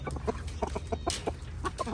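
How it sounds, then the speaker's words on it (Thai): Chickens cluck in a garden, a rooster, hen and chick making rapid short clucks in an uneven rhythm, close and clear over a low background hum. "ก็เรียกกัน กุ๊กกุ๊กกิ๊กกิ๊กครับ ตามภาษาไก่"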